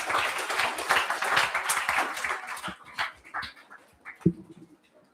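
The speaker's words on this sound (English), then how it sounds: "Can we have a huge round of applause for JF01?" A live audience at a school literature-and-mathematics event gives a round of applause, dense clapping that fills the first few seconds and then thins out into scattered claps and stray noises.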